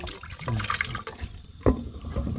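Water poured in a home kitchen, an uneven splashing trickle with a sharper splash partway through, close and moderately loud, without talk.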